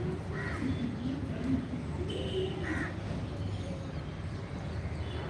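Many birds call together outdoors in the morning, with crows cawing repeatedly over a dense, steady chorus of chirps and calls, mid-distance and fairly loud, with no other sounds rising above the birds.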